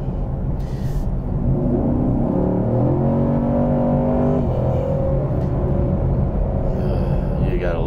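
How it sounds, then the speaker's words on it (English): Throaty V8 engine of a 2019 Chevy Camaro SS rumbles steadily from inside the car while driving, with a brief rising rev partway through and no talk over it. "You gotta love that throaty sound to that engine."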